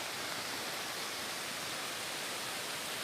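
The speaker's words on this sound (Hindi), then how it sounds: "मेरे पीछे एक वाटरफॉल भी है" A waterfall tumbling from high up in snowy mountains near Manali gives a steady, dense, full-band roar that stays constant and close throughout, with no voices over it.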